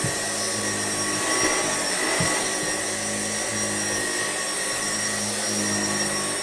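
A refurbished Hoover Junior 119 upright vacuum cleaner runs steadily on carpet, its loud continuous motor whine and brush drone holding close and even throughout with no talking.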